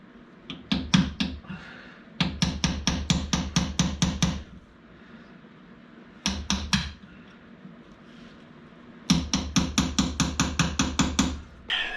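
A hammer strikes a punch against the rear main seal of a Jeep 4.0 engine in sharp, loud metallic bursts of rapid, evenly spaced blows, separated by short pauses, close up and with no talking.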